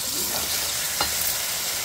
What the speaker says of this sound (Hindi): दही डालेंगे, दही का कच्चापन जाने तक इसको भून लेंगे